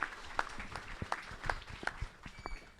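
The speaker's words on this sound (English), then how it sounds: "please join me in a big round of applause" An audience at an evening gathering at Red River Farms in Grand Saline, Texas applauds. The clapping is moderately loud but sparse and uneven, with several sharp claps standing out over a thinner patter.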